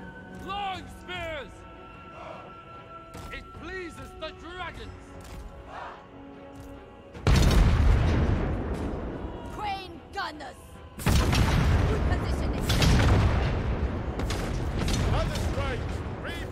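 Cannon artillery fire in Total War: Warhammer 3 battles, booming volleys with dense rumbling explosions that swell in two loud bursts over game chatter, shouts and clanking, while someone talks throughout.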